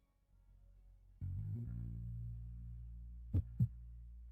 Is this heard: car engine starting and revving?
no